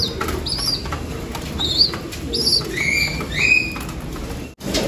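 Pigeons in a breeding loft feed on breeder mix, with soft wing flaps, shuffling and pecking mixed with faint high chirps and coos, close and continuous with no talk.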